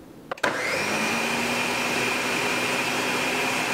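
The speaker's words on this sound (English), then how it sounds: "Just enough liquid for our blender to blend it properly." A blender blends pear butter at steady high speed for nearly four seconds after a sharp start, a loud continuous whir with a sustained motor tone and no voices.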